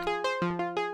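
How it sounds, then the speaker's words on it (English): A synth arpeggio processed through Ableton Redux with hard downsampling gives a gritty, aliased, metallic tone, with short plucked notes repeating in a steady rhythm, quiet and alone. "I'll bring Redux on and I'll just bring the hard downsampling on"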